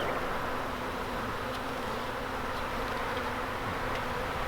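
Honey bees swarm around an open hive full of honey, a dense, continuous buzzing drone close by with no talking.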